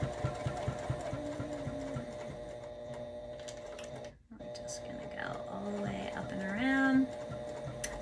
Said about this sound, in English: you're gonna hold your threads just for a couple of stitches, and then you want to back stitch